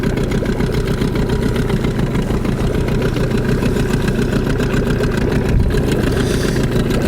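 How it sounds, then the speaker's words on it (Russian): A boat outboard motor running TC-W3 two-stroke oil idles while the boat moves slowly, a steady loud rumbling drone with a faint buzzy texture, close and constant, no talking. "Так, вот иду на холостом ходу."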